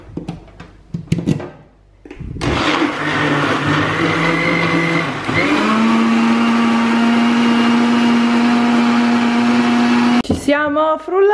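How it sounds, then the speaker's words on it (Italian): Kitchen blender whirring as it purées a fruit smoothie with Greek yogurt, starting abruptly after a brief pause, rising in pitch and holding a loud steady motor drone for about eight seconds before cutting off, with a voice at the start and end. "Azioniamo il frullatore."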